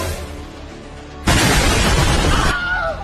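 Cartoon firecrackers set off by angry ants burst in a sudden loud, sustained crackling blast that cuts in after a quieter start and runs for about a second before easing into a fizzing tail.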